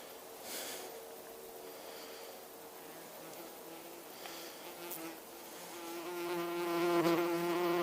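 Honeybees swarm around the entrances of their hives during a wasp attack, a dense, close buzzing drone that swells louder toward the end.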